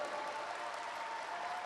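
Indoor audience clapping for artist Ajeesh Kottayam at the SMCA Kuwait Christmas and New Year fest, a dense, even wash of applause sustained for the whole moment, no voices heard.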